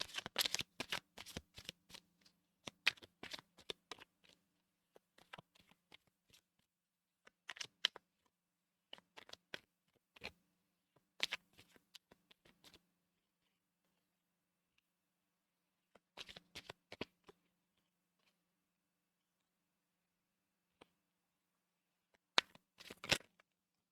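Tarot cards are shuffled by hand in repeated bursts of crisp riffling and flicking, close and quiet, separated by short silent gaps.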